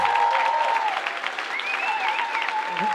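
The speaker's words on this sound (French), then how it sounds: "On peut les applaudir très fort." A live show crowd applauds three speakers after a talk, a brisk sustained clapping, with whistles and cheers rising over it.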